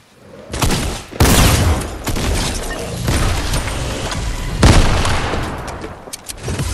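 Explosions and gunfire from the video game Fortnite, with loud sharp blasts at the start and midway, a busy rumble of shots and impacts in between.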